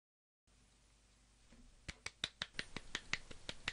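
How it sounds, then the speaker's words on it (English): A single person clapping, starting sparse with a few sharp claps then settling into a quick, fairly even run of close, dry hand claps in a quiet room, with no talking. "is that you clapping"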